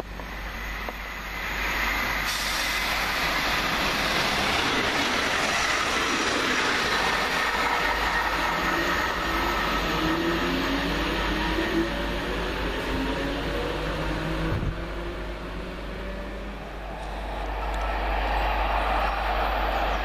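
The King's Lynn to King's Cross passenger train rumbles past close by at Welham Green, wheels clattering rhythmically over the rails beneath a continuous roar and some wind noise.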